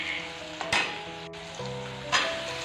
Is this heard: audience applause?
no